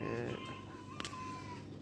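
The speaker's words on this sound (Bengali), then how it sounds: "এই যে এটা মোরগ, এগুলো সব পাহাড়ি।" Hill rooster and hens at close range, giving soft clucks and a brief sharp call over low background noise in a short burst.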